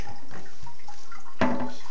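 Water rushing into a toilet tank through a newly replaced fill valve, a running, splashing flow with a sudden louder surge near the end.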